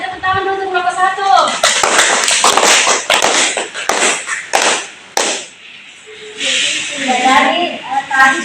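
Students in a classroom clap briefly for a group of classmates, bursts of hand claps lasting a few seconds between stretches of a teacher talking.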